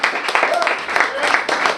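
Audience at a New York City fundraiser breaking into applause, a dense patter of clapping hands filling the room in two brief swells, with a voice speaking over it.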